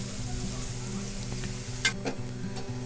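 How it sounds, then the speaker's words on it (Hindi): French beans frying in spices in a pan, a continuous soft sizzle with a few sharp clinks of a utensil stirring near the end, close and steady. "फलियों को भूनते हुए मुझे 5 मिनट हो गए"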